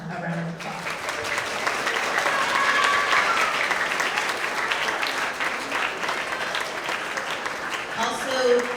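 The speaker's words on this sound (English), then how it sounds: "So give them a round of applause." A crowd gives sustained applause for students who won third place in a county team award, with steady dense clapping throughout and a brief voice near the end.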